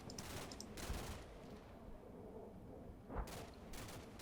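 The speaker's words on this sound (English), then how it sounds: "He can shoot up this dismounted BTR for as long as he likes." Distant gunfire in the Combat Mission video game strikes a dismounted BTR on a snowy battlefield, with faint rumbling bursts and two sharper cracks heard alone at low volume.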